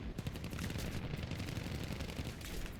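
Dense, continuous rapid aircraft machine-gun and cannon fire in War Thunder, loud and unbroken, a rattling barrage with booming low thuds throughout, no talking.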